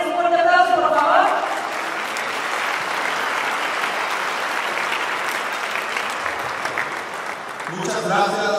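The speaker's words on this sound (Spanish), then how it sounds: "Un fuerte aplauso, por favor." A conference audience gives a speaker from Google a sustained round of applause, a broad, even roar of clapping with a voice heard briefly at the start and again as it fades.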